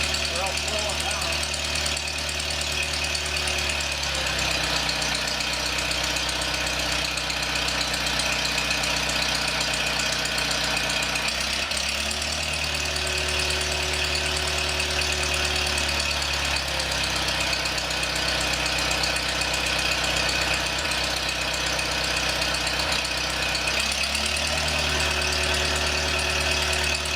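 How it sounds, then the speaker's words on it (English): An antique Kohler generator engine runs steadily with a low throbbing hum and knocking, its pitch dipping briefly at a few points as the speed is adjusted, with someone talking over it. "I manually slowed the engine down a little bit, dropped the voltage"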